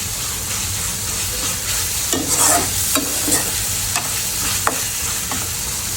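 Spice masala being stirred and sautéed in a pan: a constant oily sizzle with scraping spatula strokes that come as a few louder scrapes and taps partway through, close up, with no talking.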